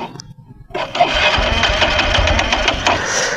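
A Honda Livo 110cc motorcycle engine catches after a brief quiet moment and settles into a loud, steady, buzzing idle close by, running on without a break.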